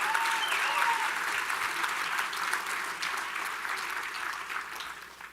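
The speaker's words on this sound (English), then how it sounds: "How about a round of applause for one of the great leaders in America, Mark Meckler?" Convention audience in Indianapolis applauding, a dense sustained wash of clapping from a large crowd that gradually tapers off.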